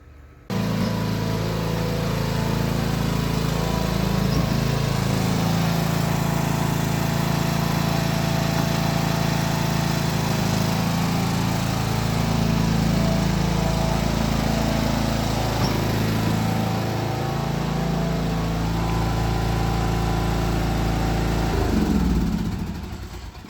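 A riding mower runs up a newly built backyard shed ramp with a loud, close, continuous engine drone, steady for about twenty seconds before it cuts out at the end.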